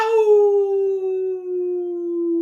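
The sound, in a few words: human voice imitating howling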